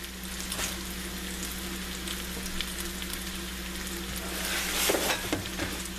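Slices of cheese melt on sizzling Philly cheesesteak meat in a hot pan, a continuous close frying crackle over a low steady hum, with a few brief stirring scrapes and no talk.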